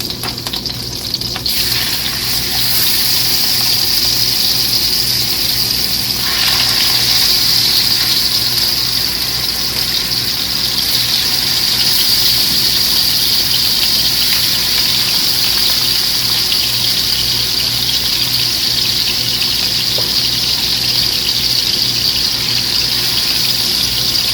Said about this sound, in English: And go ahead and fry the rest.